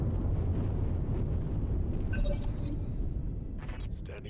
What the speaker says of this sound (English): Okay, there's that barrage going off.